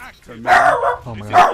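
A dog in the room barks in two short loud bursts close to the microphone, while a gamer talks excitedly over it during a competitive Destiny 2 match.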